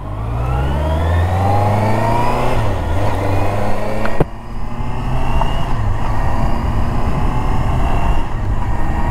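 A Honda CBR650R motorcycle engine revs up through rising pitch, then shifts at about four seconds before pulling again, loud and close to the exhaust with rough rumble.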